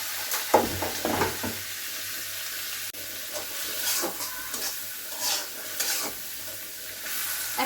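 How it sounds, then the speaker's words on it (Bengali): Shrimp being lightly fried in a pan for lau chingri (bottle gourd with shrimp) give a close, steady crackling sizzle, broken by scraping stirs and clinks, with no voices. "চিংড়িটা আমি আগে একটু ভেজে নিচ্ছি"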